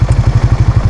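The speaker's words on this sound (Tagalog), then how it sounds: "sakmalin nyo lang at ikambyo nyo paangat, papasok na yung segunda" Raider FI motorcycle engine pulsing in a steady rapid rhythm as the rider shifts up into second gear, a close, loud mechanical putter with light clatter and no talk.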